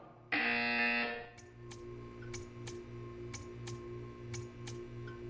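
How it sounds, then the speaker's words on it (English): A loud, steady electronic buzzer in Portal 2 blares for about a second, then stops, leaving a quiet hum with faint regular ticking. "You will hear a buzzer."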